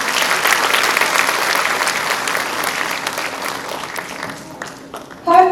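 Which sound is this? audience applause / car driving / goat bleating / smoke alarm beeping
audience applause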